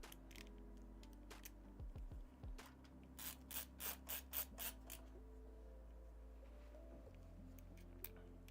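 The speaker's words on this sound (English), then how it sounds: "let's bolt in our power supply" A power supply being bolted into a PC case, with a run of ratcheting, rasping screwdriver turns in a steady rhythm over a constant low hum, fairly faint and without speech.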